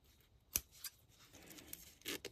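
Scissors trimming fabric while sewing a diagonal frogmouth zippered pouch: a few sharp, quiet snips spaced apart, the last a quick double cut, heard alone at close range.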